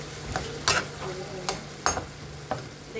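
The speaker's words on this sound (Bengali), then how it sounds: "এখন ভালো করে নেড়ে চেড়ে মিক্স করে নিব।" Curry with a tomato and vegetables being stirred in a hot pan over a low sizzle, with a handful of sharp scraping clicks of the spoon against the pan spaced irregularly.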